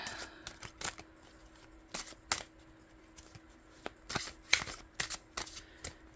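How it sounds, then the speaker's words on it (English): Brisk papery riffles of tarot cards being overhand shuffled by hand, arriving in irregular bursts with short pauses between them, close and moderately loud. "I'm not as good at shuffling this way."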